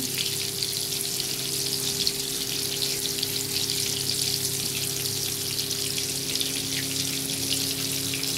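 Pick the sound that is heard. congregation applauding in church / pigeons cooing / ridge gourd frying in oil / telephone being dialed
ridge gourd frying in oil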